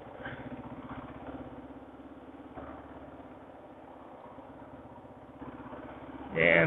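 2005 Kawasaki KLR 650 motorcycle ridden along a road at about 50 mph, a steady droning engine note heard from the saddle with wind noise, fairly muffled, swelling louder at the very end.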